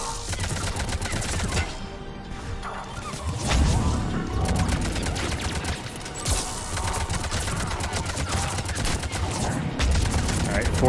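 Gunfire in Mass Effect 2 comes as sustained rapid fusillades of shots and impacts, loud and dense throughout with brief lulls, and a voice talks briefly over the battle.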